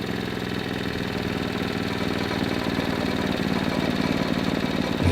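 Small engine on a machine being test-run, running steadily with a dense, rattly mid-pitched drone and rising throttle toward the end, loud and close with no talking.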